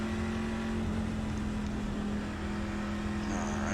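Race car accelerating off pit road on an oval in a racing game, its engine a loud, steady droning roar with a sustained tonal whine that holds throughout, with no voices.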